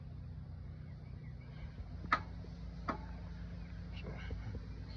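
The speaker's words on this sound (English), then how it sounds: "That's all I get, is that little ticking noise." A Husqvarna zero turn mower with a starter fault gives only faint, sparse ticks and clicks from its starter solenoid instead of cranking, heard over a low steady hum.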